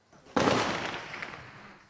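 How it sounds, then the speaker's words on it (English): Outgoing gunfire in the West Bank, a single loud sharp report with a long fading echo. "They still live with the gunfire, but now it's outgoing."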